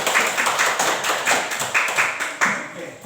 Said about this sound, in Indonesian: Tepuk tangan untuk Fadli